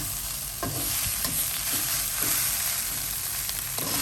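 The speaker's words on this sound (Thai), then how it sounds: "อันนี้มันผัดกับปลาเค็มนะคะ" Rice stir-fried with salted fish sizzles steadily in a hot pan, broken by a few distinct scraping strokes of a spatula stirring and tossing it, with no voices.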